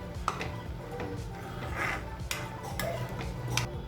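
Boiling green gram for a Kerala-style cherupayar thoran is stirred in a pot and then covered, giving scattered light clinks and taps of utensil against metal over a low bubbling background.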